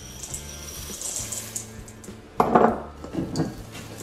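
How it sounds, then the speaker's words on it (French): Cookie dough with chocolate chips being mixed in a bowl, soft close scraping and knocking of a utensil against the bowl, with a louder clatter midway. "on va pouvoir rajouter nos billes de chocolat et mélanger notre pâte"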